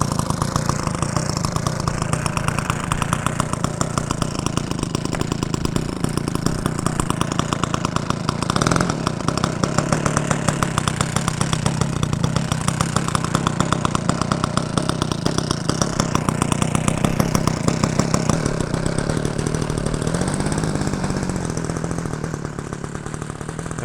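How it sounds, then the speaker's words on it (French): A model airplane engine runs steadily and loudly for the whole stretch, a continuous buzzing drone with slight rises in pitch, easing off a little at the very end, with no voices over it. "Là au maximum elle tourne à 850 tours là, le moteur."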